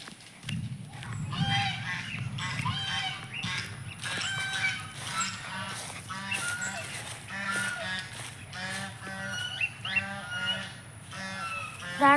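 Caged birds at a home honk repeatedly in loud, goose-like calls, overlapping one another in a noisy, continuous chorus.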